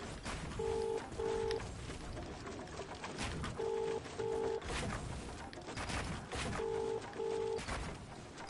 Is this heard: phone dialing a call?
yes